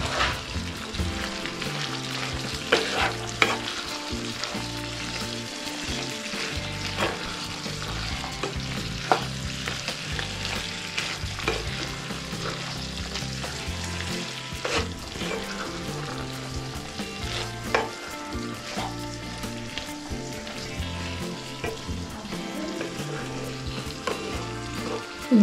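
Turichya ghugrya (pigeon pea preparation) with fresh coriander is stirred in a pan, a low continuous sizzle under repeated spoon scrapes and soft clatter, fairly quiet and steady with no voices.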